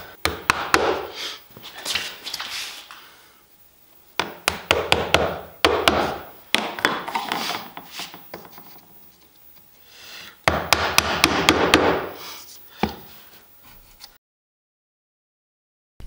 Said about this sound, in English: the rounded over area left by the router bit, I'm just gonna square it up with the chisel.